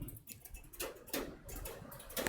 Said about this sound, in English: The rain sound, it's not rain, it's the expansion and contraction of the metal heater.